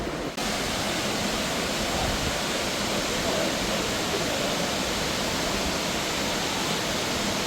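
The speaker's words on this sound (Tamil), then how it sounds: "ஒரு அரை மணி நேர பயணத்தில் 300 அடி உயரத்துலேருந்து விழற ஆகாய கங்கை அருவி இதுதாங்க." Aagaya Gangai waterfall in the Kolli Hills, dropping from 300 feet, gives a dense, unbroken roar of falling water, loud and close, steady throughout.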